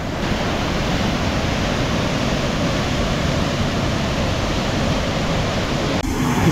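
A waterfall in a Meghalaya gorge pours in a dense, steady roar, loud and close, unbroken for the whole stretch with no voices.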